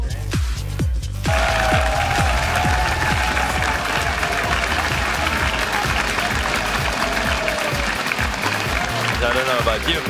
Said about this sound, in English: got a good cheer